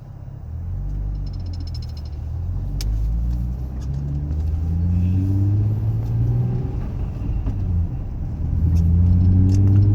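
A Nissan 350Z fitted with a short shifter drives and accelerates, its engine note rising and dropping through successive gear changes, a steady close rumble from inside the car.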